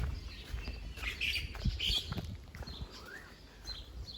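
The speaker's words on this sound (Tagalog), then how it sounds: "May ibon." Birds chirping in short scattered tweets over a quiet tree-lined suburban street in Auckland, moderately distant, with a few soft taps and rustles.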